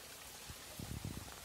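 Steady hiss of rain falling, close and soft, with a few heavier patters of drops hitting a surface toward the end.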